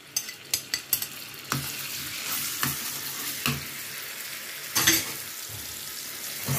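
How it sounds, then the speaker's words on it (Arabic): Garlic frying in oil in a pan for a molokhia topping: a steady sizzle broken by a few sharp utensil taps at the start and occasional louder crackling bursts, close and clear. "الملوخيه نحمر لها الثوم"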